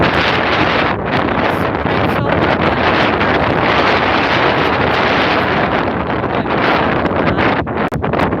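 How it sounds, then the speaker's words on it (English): Strong wind at Malpas beach in Benidorm buffets the microphone in a continuous, loud roar with gusty surges, no voices. "It is very windy."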